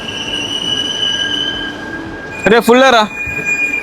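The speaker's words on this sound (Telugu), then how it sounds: "ఇప్పుడు వచ్చింది మన ట్రైన్" Kanyakumari–Howrah express pulling into a station platform, its wheels letting out a loud, wavering metallic squeal for about half a second over steady rumble and platform noise, with people talking nearby.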